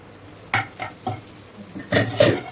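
Chicken filling for crispy singara is stirred in a pan over low heat, giving several separate scraping stirs with a light sizzle and two louder strokes near the end, with no talking.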